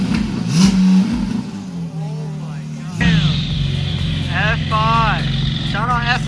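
A Porsche 992 GT3 fitted with an FI exhaust revs hard in short bursts, its engine note climbing and falling through several sharp blips, heard up close with excited voices talking over it.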